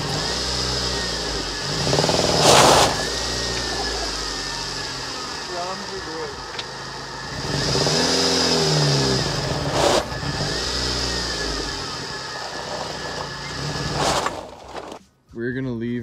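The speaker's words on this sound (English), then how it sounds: "She's not running too great. Sounds like she's dying" An off-road Honda Civic engine running rough and idling unevenly, with a few loud revs that rise and fall against a sputtering drone and a brief cut near the end.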